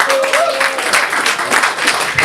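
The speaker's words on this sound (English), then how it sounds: "can we get a round of applause for the first 3 artists that played today?" Crowd applause at a live music event for three artists who had just played, dense and loud clapping throughout with a faint sustained tone underneath.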